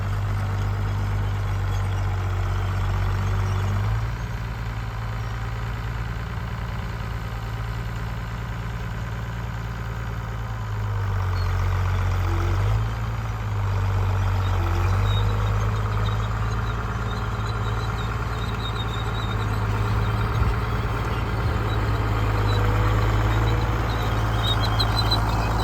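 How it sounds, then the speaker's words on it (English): A farm tractor pulling a John Deere 495A planter, its engine droning steadily and loudly for the whole stretch. The low rumble shifts slightly in pitch now and then. "This is a 495A John Deere planter."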